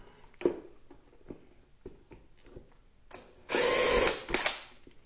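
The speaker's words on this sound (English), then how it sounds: "So once we have all those holes drilled" A power drill bores holes through a plastic Ski-Doo snowmobile glovebox lid in two close, loud whirring bursts, the second shorter, after a stretch of quiet scattered taps and handling noises.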